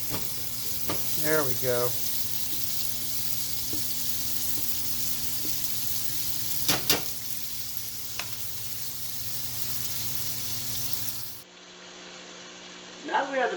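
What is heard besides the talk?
bacon frying and rendering in a pan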